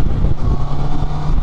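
A 2023 Honda CB650R motorcycle revving as the throttle is twisted, a close, loud engine roar with a low rumbling growl over a short burst.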